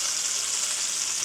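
Thin chicken pieces frying in a pan to crisp the skin, a steady bright sizzle, close and even, with no talk.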